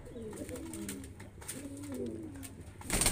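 Black Shirazi pigeons, a male and a female, coo nearby in soft, repeated throaty phrases, ending with a brief louder burst of noise.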